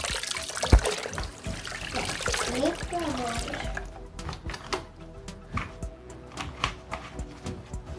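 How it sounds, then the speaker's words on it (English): Vinegar, dish soap and food coloring are poured into a homemade foamy baking-soda volcano for a kids' science experiment, with trickling, splashing liquid and fizz followed by a series of light taps and clicks. "Let's add more vinegar, dish soap, and food coloring."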